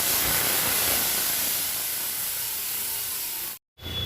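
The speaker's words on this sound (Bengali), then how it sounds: "এই সর্ষে জলটা কড়াইতে দিয়ে দিই" Mustard water poured into a hot pan, a loud, dense, close hiss of sizzling steam that holds steady for over three seconds, then cuts out briefly and resumes.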